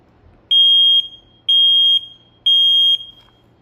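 An interconnectable smoke alarm under test gives three loud, evenly spaced high-pitched beeps, each about half a second long, with short gaps of quiet between them.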